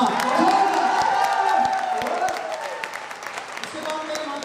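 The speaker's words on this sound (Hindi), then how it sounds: "जोरदार ताली बजा के दिखाना" At a company's first anniversary celebration in Prayagraj, an audience claps loudly with cheers and whoops, the applause strongest at first and then settling, with voices mixed in throughout.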